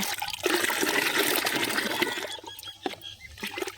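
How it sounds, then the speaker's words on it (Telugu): Water is poured into a homemade potassium-rich flower fertilizer mixture, two litres added at once: a loud, steady splashing gush that trails off into lighter trickles and drips near the end, with no voices. "ఇప్పుడు రెండు లీటర్ల వాటర్ని దీంట్లో అయితే కలుపుతున్నాను"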